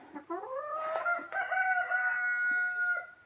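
Chickens in a dirty coop where hens are laying eggs, a rooster crowing in one long drawn-out call over scattered clucks, close and fairly loud, with no talking.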